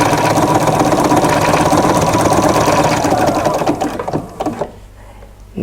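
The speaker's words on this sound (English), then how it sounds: "I'm just going to go ahead and start stitching across" A sewing machine runs steadily, stitching across a fall panel quilt 2 to 3 inches from the corner, with a loud continuous motor whir and needle clatter that slows and stops near the end.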